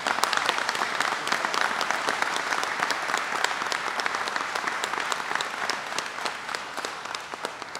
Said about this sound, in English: I want to give a big cheer for all the Wegman employees that are here today